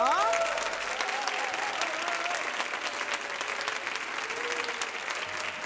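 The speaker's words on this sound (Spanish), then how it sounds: "Un aplauso, ¿no?" A studio audience at the opening gala of a television show applauds steadily, a sustained wash of clapping with a brief musical sting at the start and no talk over it.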